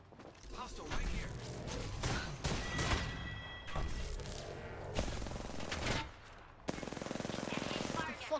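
Bursts of automatic weapon fire crackle in a ranked arena match of a shooter video game, rapid rattling volleys broken by short pauses and mechanical clicks, at moderate volume.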